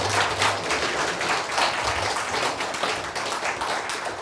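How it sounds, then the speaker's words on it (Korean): Audience applause fills a Korean tea culture symposium hall, a steady dense wash of clapping from a seated crowd that holds evenly throughout. "다시 한번 더 큰 박수 부탁드립니다"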